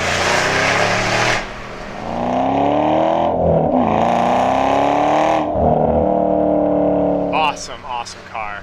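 A 2011 Ford Shelby GT500 drives with a loud, close engine drone that rises and falls through gear changes, slowing toward a stop, with someone talking over it.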